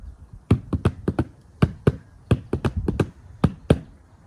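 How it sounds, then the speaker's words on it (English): A big kitchen container of sugar shaken like a percussion shaker, giving a close, loud run of about fifteen crisp rattling hits in an uneven rhythm, with no voices. "I also found this big container of sugar in the kitchen, and it also has a really neat sound"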